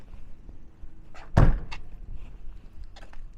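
A single loud thunk near the middle as a door on a Penske truck's wheelchair lift is shut, with some softer clatter and handling noises around it.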